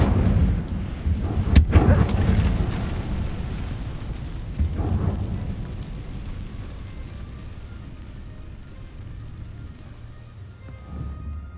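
A fire spell bursts in a fantasy wizard game, a loud booming whoosh with a sharp crack early on, then a rumbling roar that slowly fades over several seconds.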